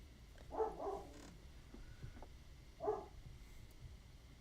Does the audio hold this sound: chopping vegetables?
no